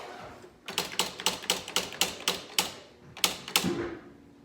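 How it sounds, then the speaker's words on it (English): A Smith Corona SL 500 electric typewriter typing: a brisk, even run of about a dozen sharp, close keystrokes with a short gap before two more strikes and a brief mechanical whir at the end. "Okay, so it's an electric typewriter"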